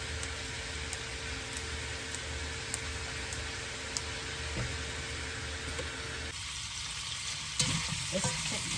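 Continuous sizzling of garlic and onion browning in a frying pan, a steady hiss at moderate level that thins slightly toward the end with a few small clatters, no speech.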